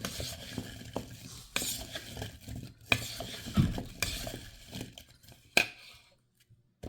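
Food for meal prep is mixed in a bowl with a utensil, producing uneven scraping and clinking strokes with occasional louder knocks, close and moderately loud before fading to near silence at the end.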